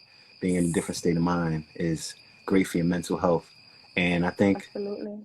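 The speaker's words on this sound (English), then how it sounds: "I don't know if you can hear like the crickets in the background." Crickets chirping outdoors among trees in Georgia, a steady high pulsing trill held at constant level throughout, running faintly beneath someone talking.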